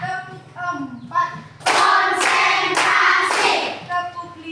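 Rhythmic hand clapping in a classroom clapping game: four sharp, evenly spaced loud claps following a stretch of chanting voices, which return faintly at the end.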